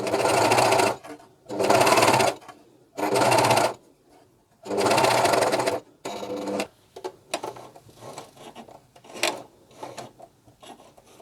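A Juki MCS1 coverstitch machine sews a pocket in four loud bursts of steady mechanical stitching separated by short pauses, followed by quieter, irregular handling and clicking noises.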